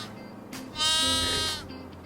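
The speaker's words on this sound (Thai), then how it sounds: "อันนี้ก็แกะใช่ปะ" A sheep bleats once at a farm zoo, a loud, drawn-out wavering call standing out over quiet outdoor background.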